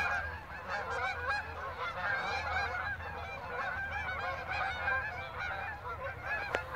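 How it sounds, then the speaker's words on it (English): Geese honk repeatedly while flying overhead, a chorus of overlapping calls at moderate distance over a low outdoor rumble. "Looks like the honkers are flying."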